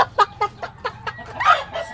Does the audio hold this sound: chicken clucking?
yes